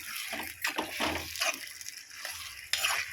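A spoon scrapes and stirs mutton liver in a pan, with wet sizzling swishes and clinks in an irregular rhythm, close and fairly quiet.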